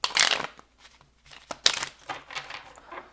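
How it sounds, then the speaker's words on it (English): Tarot cards being shuffled by hand give a loud riffling burst, then softer intermittent shuffles and flicks in quick irregular bursts, close up. "We'll do one more shuffle."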